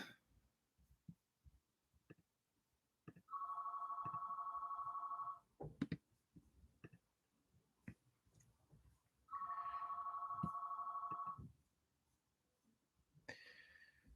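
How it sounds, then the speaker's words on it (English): Telephone ringing in a room, two long electronic rings a few seconds apart, moderately loud against quiet background noise with scattered small knocks and clicks. "There's my uncle's phone."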